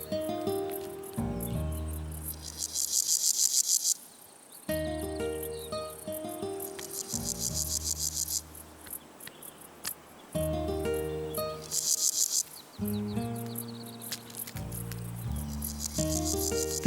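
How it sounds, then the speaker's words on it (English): Male grasshoppers in a dense grassy field stridulate in loud, rhythmic rasping bursts, each several seconds long with brief pauses between, layered over a low drone, close and continuous. "Loud and clear, male grasshoppers announce their readiness to mate."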